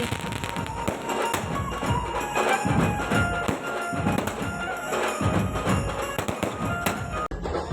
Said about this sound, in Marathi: सर्वजण खूप मज्जा करत आहे वरातीमध्ये सर्व फटाके फोडत आहे